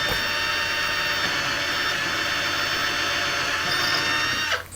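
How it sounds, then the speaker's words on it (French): A power drill with a 4 mm bit bores a hole through plasterboard wall for a molly anchor, a loud, steady whirring grind held for over four seconds before cutting off abruptly. "là je fais un trou pour passer le boulon avec une mèche de 4 mm"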